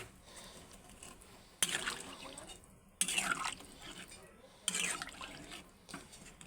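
Water poured in several separate splashing pours into a pan to boil potatoes and pointed gourd, each pour lasting about a second before trailing off, with a voice talking quietly underneath.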